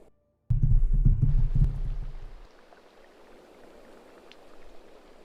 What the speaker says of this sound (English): And now it rains. It's raining.